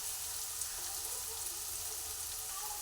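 Shredded cabbage sautéing in a pan with a soft, even sizzle that stays faint and constant throughout, with no other noises.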